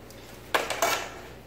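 Grilled skirt steak shish kabobs are set onto a plate with a sharp metallic clatter of skewers and cutlery against the dish, a few quick clinks in a row, close and fairly loud.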